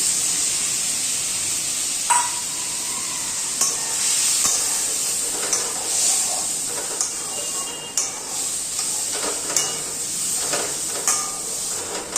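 Chickpeas go into a pan of frying onions and get stirred, with a steady close sizzle and hiss underneath and irregular scraping knocks from the spoon moving through the pan.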